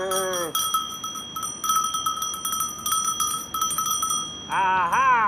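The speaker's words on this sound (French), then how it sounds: "Elle n'aime pas trop les cloches, Loupette." Clanging cowbells on livestock ring near and loud in a steady, irregular jangle, with brief animal bleats at the start and end.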